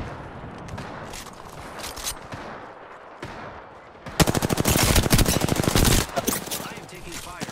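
Automatic weapon fire in the video game Apex Legends: scattered shots at first, then a loud, sustained rapid burst lasting a couple of seconds before trailing off.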